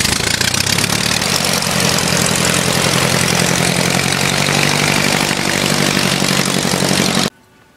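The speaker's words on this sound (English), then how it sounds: "Now we start the engine." A light aircraft engine runs loud and close at a steady idle, a thick continuous drone with a propeller throb, holding constant for about seven seconds before cutting off abruptly.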